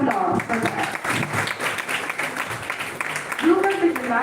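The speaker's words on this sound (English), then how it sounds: "I need a big round of applause for that." An audience claps for the inauguration ceremony of a national-level oratory contest. The applause is moderate and runs under a speaker's voice, rising and thinning as the talk continues.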